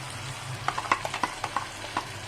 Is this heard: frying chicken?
yes